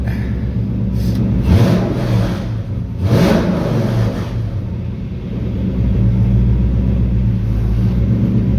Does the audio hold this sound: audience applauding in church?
no